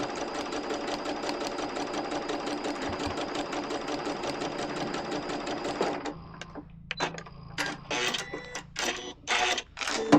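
A sewing machine stitches a quilt block seam for a Churn Dash table topper, running fast and steady with a dense, even rattle for about six seconds before stopping, followed by scattered handling clicks and rustles.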